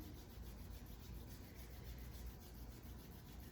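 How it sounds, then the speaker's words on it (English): Palms rub briskly together during a Kundalini yoga practice, making a steady, close, dry swishing friction that runs unbroken throughout with no talking. "let's just kind of rub our hands together"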